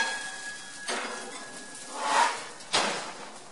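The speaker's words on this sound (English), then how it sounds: "I'm going to turn this off and stick this in the oven" A metal pan slid into a home oven: a couple of sharp metallic clanks and a scraping rattle, close and clear in a quiet kitchen, with no talk.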